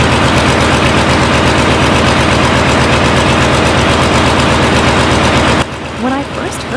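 A loud, 50-year-old restored engine runs with a harsh, rapid, pulsing roar up close, then drops abruptly as a voice speaks over the remaining rumble.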